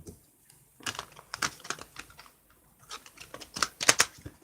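Tarot cards being shuffled for a love reading, giving a run of crisp papery riffles and taps in uneven bursts, fairly close and moderately quiet, with no talking.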